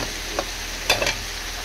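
Tofu and mung bean sprouts stir-fry in a pan with a steady, moderate sizzle and a few quick scraping stirs partway through.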